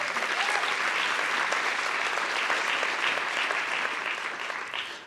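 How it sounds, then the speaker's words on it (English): Sustained audience applause fills a room at an arts equity summit, dense and even throughout before tapering slightly at the end. "Please give a round of applause to Hyppolite."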